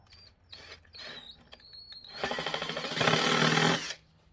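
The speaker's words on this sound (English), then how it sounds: "Take a drill bit." A power drill whirs in short bursts, then runs continuously with a rattling grind as the bit enlarges a hole for motorcycle turn signals before stopping.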